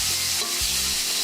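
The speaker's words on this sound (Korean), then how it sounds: "고기가 어느 정도 거의 다 익을 때까지 고기만 따로 볶아줄게요" Meat stir-fried in a pan on its own, giving a steady, close hiss of sizzling with a soft stirring scrape partway through.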